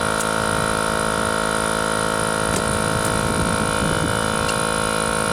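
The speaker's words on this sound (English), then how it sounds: "Sorry about the noise, compressor is running" An air compressor runs steadily in a garage during brake caliper work on a Dodge Durango, a constant droning motor hum with a high whine, alone and fairly loud throughout with a few brief clanks.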